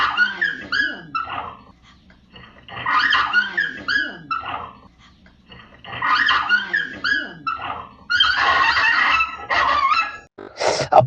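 A dog under attack by a tiger barks, yelps and whimpers in frantic bursts, close and loud, with brief quiet gaps between outbursts and a person talking over parts of it.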